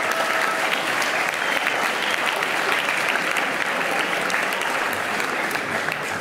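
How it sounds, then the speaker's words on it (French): A large audience at the Ô Parleur 2023 speaking event bursts into sustained, dense applause, a steady wash of many hands clapping together, loud and even from start to finish. "Applaudissements."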